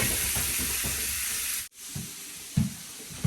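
Shrimp sizzling and frying in a hot pan, a steady close hiss that cuts out briefly, then resumes with soft stirring bumps.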